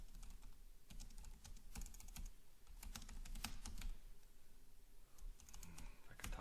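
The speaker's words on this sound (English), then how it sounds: "I could type." Computer keyboard keys typed in quick bursts of clicks to enter a question into a chatbot, close and steady for several seconds with short pauses between runs, no talking.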